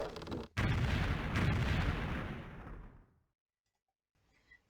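Stacked units in Civilization 3 launch a bombard, a single loud, dense burst of artillery fire that rolls on for about three seconds and then cuts off, leaving near-silence and a faint click.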